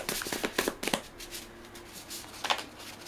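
Quirky art cards shuffled by hand in a quick run of crisp, riffling bursts, then a pause before one more short flurry. The sound is close and fairly quiet, with no one talking.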